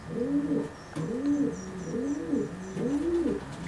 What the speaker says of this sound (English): These are Doug's Woodward Channel pigeons.